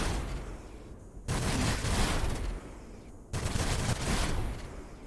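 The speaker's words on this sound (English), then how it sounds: "let's do some shooting." Gunfire from a turn-based battle in Age of Wonders Planetfall: two dense, sustained volleys of rattling shots, each lasting about two seconds, loud and harsh with a low rumble beneath.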